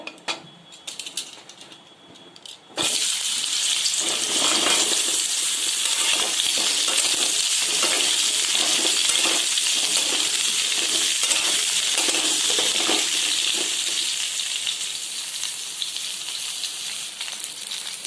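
Steady, dense sizzling of pointed gourd pieces lightly frying in hot oil in a kadai begins abruptly after a quiet start and continues loudly with crackling throughout.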